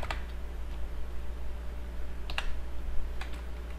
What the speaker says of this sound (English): we'll type something